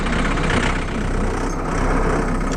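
A John Deere 4520 farm tractor engine idling nearby, a steady, loud low diesel rumble that stays even throughout.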